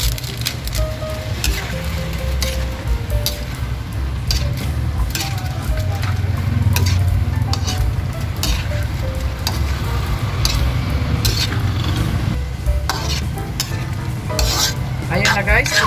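Vegetables for chicken and liver chop suey being stirred in a hot pan, a steady sizzle of frying under repeated scraping and clinking of the spatula, close and continuous.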